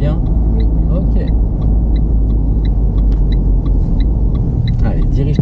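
A car engine hums at low, steady rumble inside the cabin during a manual-gearbox driving lesson, with faint rattles and clicks while an instructor and learner talk over it.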